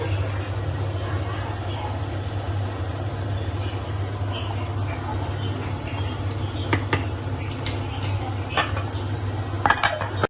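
Fish curry stirred in a pot with a spoon, steady soft scraping over a low hum, with a few light metallic clinks toward the end and faint kitchen background throughout.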